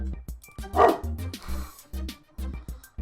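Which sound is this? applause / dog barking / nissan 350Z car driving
dog barking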